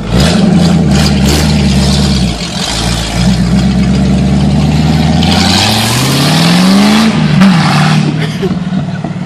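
A 1991 Mustang Fox Body V8 with a new 2.5-inch off-road H-pipe exhaust rumbles loudly nearby, revving up and down several times with a deep, throaty exhaust note.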